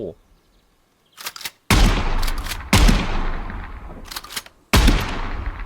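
Three loud, close shotgun blasts from the Gunsmith Simulator video game fired at a target about 65 feet away, each a sharp boom with a decaying tail, preceded by a few quieter mechanical clicks.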